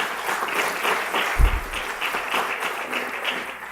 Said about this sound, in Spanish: Se vale aplaudir.